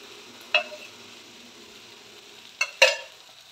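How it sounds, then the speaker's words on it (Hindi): Masala frying in ghee over a medium flame for dhaba-style kadahi chicken: a soft, even sizzle, broken by three sharp clanks of a spoon against the pan. "तो मीडियम फ्लेम पर हम करीब 5 से 7 मिनट तक भूनेंगे, जब तक कि मसाला तेल न छोड़ने लगे"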